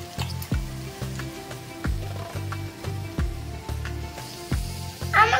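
Soaked tofu pieces dropping into a hot pan for a Bengali-style tofu curry, hissing and sizzling in oil with steady low frying crackle and repeated soft thumps as pieces are stirred, no voices.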